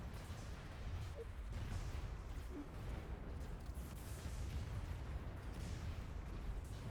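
Enemy fire pounding the player's ships in AI War 2, a steady low rumble of distant artillery-like booms and muffled explosions blending into a continuous, faint roar of space battle.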